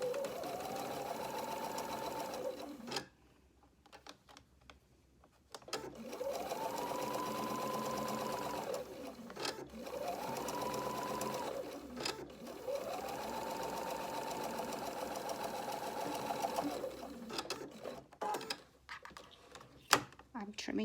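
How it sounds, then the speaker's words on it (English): A sewing machine runs in bursts as it stitches the inseam of an elastic waistband garment, its steady whirring motor broken by brief pauses and handling clicks, heard up close. "I'm starting to sew from top to bottom"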